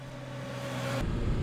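BMW S 1000 XR motorcycle engine running steadily, then a quick auto-blipper gear change at about one second as the note drops and deepens into a louder, rougher drone.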